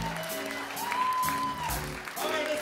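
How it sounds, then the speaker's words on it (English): A club audience applauds during a big band set, a steady wash of clapping and crowd noise, joined midway by a sustained held instrumental tone and some low band sounds. "Give yourself a round of applause."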